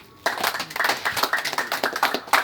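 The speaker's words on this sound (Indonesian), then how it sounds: "Tepuk tangan dulu." Scattered hand clapping from a small gathering after a call to clap at a meeting, starting abruptly and continuing in uneven bursts for a couple of seconds, moderately close and without talk over it.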